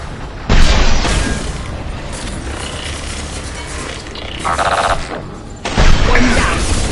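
Gunfire and explosions in the video game Mass Effect 2, loud booming blasts at the start and again near the end, with a rattling burst of fire in between and a steady noisy battle bed throughout.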